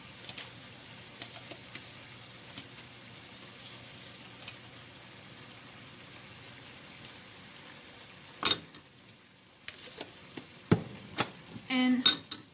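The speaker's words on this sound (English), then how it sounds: "And stir this with the mixture, like this, heating it, turning this into a gravy." Yogurt stirred into a hot frying mixture in a pot for biryani gravy: faint low sizzling under scattered utensil scrapes and clinks against the pan, growing busier toward the end.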